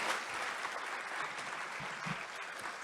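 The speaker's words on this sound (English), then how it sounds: "How about one more round of applause for Luann?" An audience at a community book event gives one more round of applause for Luann, a dense, even clapping that holds steady throughout with no speech over it.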